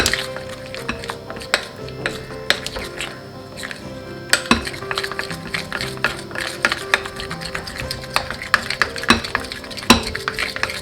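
Melted chocolate stirred in a bowl for a chocolate shoe mould, giving a steady scraping and clinking of a utensil against the bowl with occasional sharper knocks, close and continuous, no voice.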